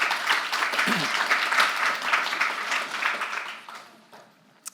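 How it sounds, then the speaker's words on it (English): A forum audience at an art event applauds a speaker with steady, full clapping that holds for about three seconds, then thins and fades to near silence, ending on one sharp knock. "So please, a warm round of applause to Lawrence Lek"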